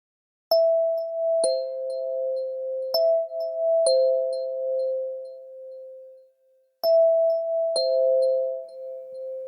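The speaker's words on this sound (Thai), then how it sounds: "เสียงกริ่งดังขึ้นซ้ำ" Two-tone ding-dong chime rings repeatedly, three times with clear pauses and lingering tones between.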